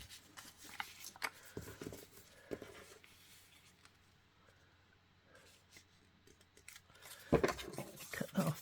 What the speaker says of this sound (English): So let's cut this piece.